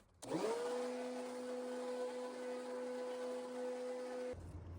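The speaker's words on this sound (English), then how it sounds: "So right now we can go blow some leaves." A Yardworks 12 amp electric leaf blower/vacuum with Aero Force Technology spins up with a rising whine and settles into a steady motor drone with a clear tonal hum, running alone for about four seconds before switching off abruptly.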